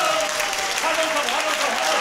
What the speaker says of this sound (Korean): 거가가 박수 칠 때까지